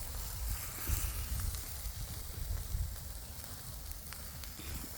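Fillet steak sizzling on an outdoor barbecue beside Rutland Water, a steady low hiss and crackle with soft pops, continuous and moderately close in open air.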